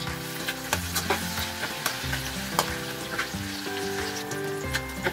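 Garlic sizzles steadily in a hot pan for fried rice, a dense continuous frying hiss broken by repeated stirring scrapes and soft clicks of the utensil, close and fairly loud with no voices.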